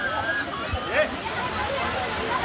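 Falling water rushes and sloshes steadily at a waterfall in Panvel, Navi Mumbai, with nearby voices talking over the continuous roar.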